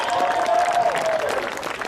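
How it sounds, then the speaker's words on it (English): Sustained applause from a crowd honoring seniors at a varsity high school water polo game, a steady dense patter of clapping throughout, fairly close, with a tonal whistle-like sound running beneath it. "Let's have one last round of applause for all the seniors"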